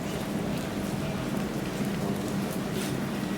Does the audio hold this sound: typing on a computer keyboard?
no